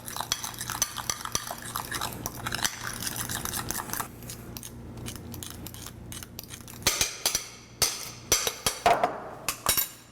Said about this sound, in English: So let's take our fork or whisk and mix it all together.